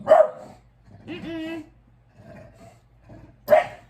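A dog barks sharply twice, once at the start and once near the end, with softer vocal sounds in between in a quiet indoor room.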